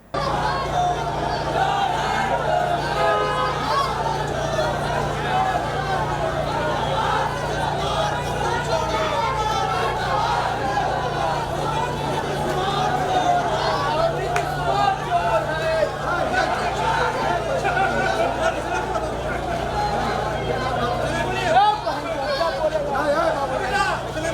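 Dense crowd hubbub from a political street rally in Bihar, many voices chattering and shouting at once in a steady, loud wash that never lets up, with a low mains-like hum underneath.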